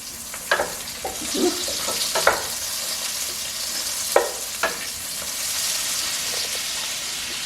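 Butter and olive oil sizzle steadily in a pan for bacon fried rice, a close, continuous hissing fry broken by a few sharp pops and light scraping or stirring clicks.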